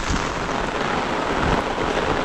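Heavy monsoon rain falls on a Konkan village in a loud, unbroken roar of hiss and drumming close at hand, with no one speaking.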